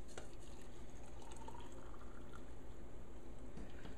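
Hot water pouring over stevia leaves to steep them for a pickling brine, a steady faint liquid wash with a low, broad hiss throughout and no talking.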